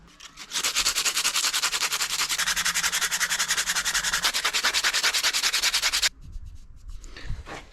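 An old camping axe is sanded in a steady, fast scratching rasp that runs loud and continuous for several seconds, then stops, leaving quieter handling noises.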